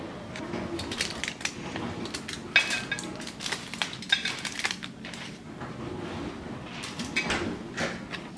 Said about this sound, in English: So now that my bread has cooled, I'll slice into it.